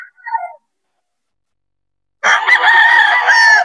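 A young gamefowl rooster (stag) at a Bocaue fowl market lets out one full, loud crow lasting over a second, after a brief faint clucking and a pause of silence.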